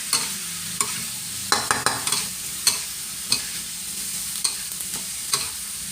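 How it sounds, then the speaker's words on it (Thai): Steady sizzling of bell peppers stir-frying in a hot wok, with irregular scraping and clacking of a utensil as the food is stirred. "ผัดพริกหยวกให้สุกจ้า"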